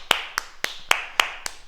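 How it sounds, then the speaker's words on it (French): A group applauding together after a martial arts exercise session, heard as six sharp, evenly spaced claps in a quick rhythm, crisp and close with nothing else around them. "Et on s'applaudit très fort."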